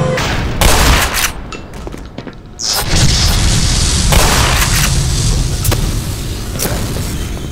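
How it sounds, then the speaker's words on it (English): Shotgun blasts in the video game Black Mesa, a loud percussive boom followed by a sustained rumbling roar of continued firing and game noise, close and dense. "Shotgun's fun."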